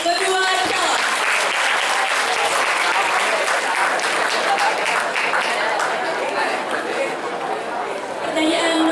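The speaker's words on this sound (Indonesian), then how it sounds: "Beri tepuk tangan untuk kedua calon" Loud, sustained applause from a school audience for two candidates in a student council debate, dense clapping mixed with crowd chatter, easing slightly before swelling again at the end.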